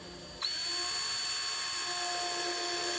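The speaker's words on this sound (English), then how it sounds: "So I'm going to grab the drill." A power drill spins up sharply and holds a steady high whine as it bores through a metal guitar amplifier head chassis, close and loud throughout.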